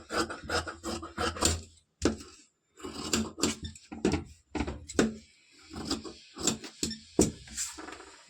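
Scissors cut through blouse fabric, giving a close series of quick crisp snips and rasping slices in irregular bursts with short pauses between them, no talking.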